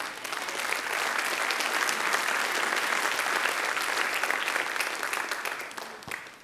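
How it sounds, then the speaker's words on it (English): A church congregation applauds during a sermon: full, dense clapping from a large crowd that builds quickly, holds steady and loud, then thins out toward the end. "That's worth giving God a clap today."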